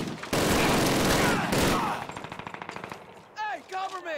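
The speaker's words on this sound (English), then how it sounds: "Oh boy, I got a machine gun." Sustained automatic fire from a machine gun in the Call of Duty video game, a dense loud burst that breaks into a rapid rhythmic stutter of shots, then fades as brief voices follow.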